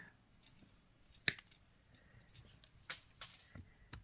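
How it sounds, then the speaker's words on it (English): Beading wire for a pendant is snipped with a single sharp cut near the start, followed by quieter small handling clicks and rustles, close and faint. "That looks like a pretty good spot to cut it, so we'll cut it right here."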